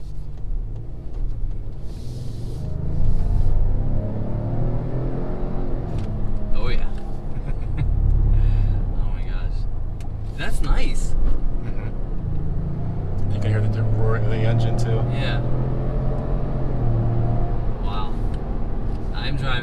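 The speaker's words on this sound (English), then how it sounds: "Driving a massive car and it just went that fast." Lincoln Navigator SUV accelerating in Excite driving mode, a steady low engine and road rumble from inside the cabin that swells as it pulls, with a person talking over it throughout.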